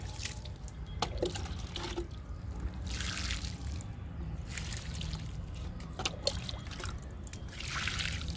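Water splashes and trickles into potted white chrysanthemum plants in a home garden, an uneven running patter with bursts of louder pouring and small drips, close by and without talk.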